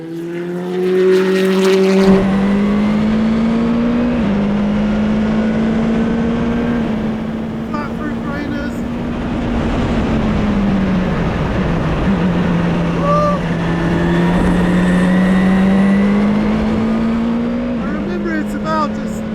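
The Courage C65 LMP2 race car's engine screams at full throttle from inside the cockpit, holding loud and steady with brief pitch dips at gear changes. A voice talks over it.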